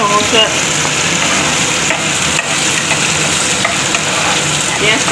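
A loud, steady sizzle of onions with cumin and garlic frying in a pan until reddish, with faint stirring scrapes and no voices.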